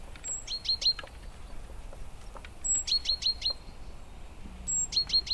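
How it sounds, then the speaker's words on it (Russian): A flock of tits chirps in repeated bright, high bursts of quick notes, several calls overlapping against a quiet outdoor background. "перезвон стайки синиц"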